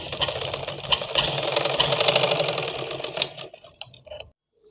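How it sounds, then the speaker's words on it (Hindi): A sewing machine stitches blouse sleeves in a fast, continuous whirring run of needle strokes, close and loud. It slows into a few separate clunks before stopping. "और इन पर सिलाई लगा लेनी है।"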